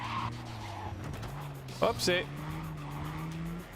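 A car in the Cyberpunk 2077 video game drives with a steady engine drone, then briefly skids with a short tire squeal partway through, while a player's voice comments over the game audio.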